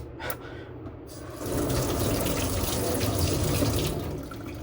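A kitchen tap runs hard into a sink while food is washed before cooking oyakodon, a steady loud rushing splash after a short quieter start, close up and with no talking.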